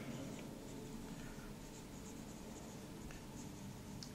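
A Jinhao 188 fountain pen moves quickly across paper, giving a close, steady, continuous scratching with a few brighter nib ticks, heard alone.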